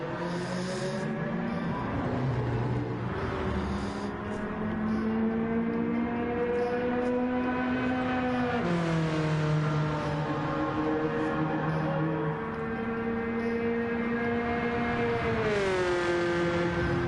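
A race car engine in Gran Turismo 7 drones loud and steady, its pitch climbing through the gears with clear drops at each upshift, all the way through with no talking.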